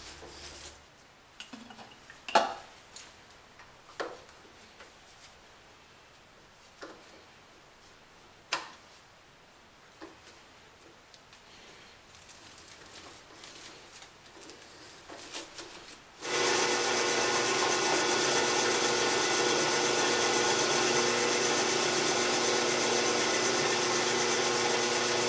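A hand tap turned with a small tap wrench cuts threads in a metal plate, giving scattered scraping, ticking and clinking sounds up close. Partway through, a loud steady whirring hum starts and drowns everything else out.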